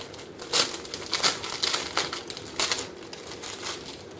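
A clothing-haul package being unboxed: steady crinkling and rustling of paper and plastic wrapping with repeated louder crunches, close and continuous with no talking.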